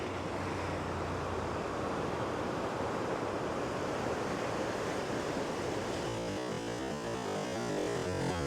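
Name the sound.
sea waves crashing on rocks at Uppada beach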